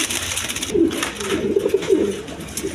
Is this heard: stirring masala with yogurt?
no